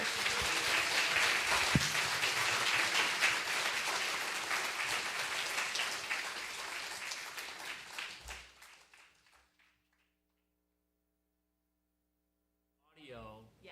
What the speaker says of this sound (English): I invite us to give a hearty round of applause to our amazing speaker, Gary Frazier.